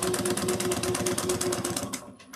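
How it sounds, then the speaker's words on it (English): A sewing machine top stitches a fabric bag at a steady, rapid stitching rhythm. The stitching is loud and close, runs continuously, and stops near the end with a brief click. "we're going to top stitch this at 1/8 of an inch"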